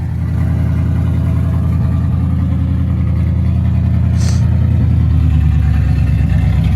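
A 1955 Buick engine idles loud and close in a steady rumble, its speed drifting slightly up and down.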